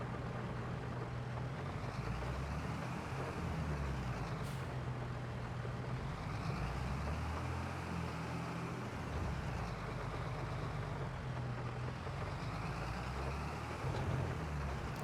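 A tractor engine driving in the video game Farming Simulator 22, with a steady low diesel rumble that continues throughout at moderate volume and has no talk over it.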